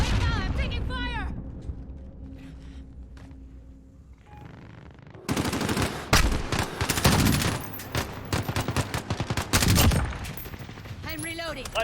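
Rapid bursts of gunfire from Call of Duty: Modern Warfare, dense volleys erupting midway after a quieter stretch, loud and close with game voices and chatter over the shooting.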